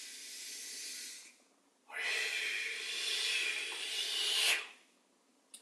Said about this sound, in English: Let us send whatever hucha we can release into the earth with the cleansing breath